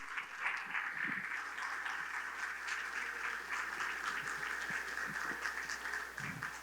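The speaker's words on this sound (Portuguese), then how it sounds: "aplaude o nome do Senhor Jesus" Congregation at a church service applauding the name of Jesus, a steady wash of clapping from many hands that holds at an even level throughout, with no voices over it.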